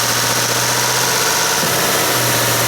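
A Ford F150 engine held at 2000 rpm runs loud and close with a steady mechanical clacking and rattle layered over its constant drone.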